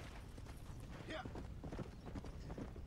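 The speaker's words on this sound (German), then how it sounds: "und plötzlich taucht mein Pferd von hinten auf" Horse hooves clip-clop in Red Dead Redemption: Undead Nightmare as the horse comes up from behind, a steady rhythmic clopping mixed with game ambience and a voice talking over it.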